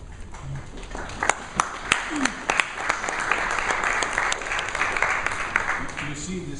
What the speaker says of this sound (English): You see, this came partly as a surprise, so spontaneous applause.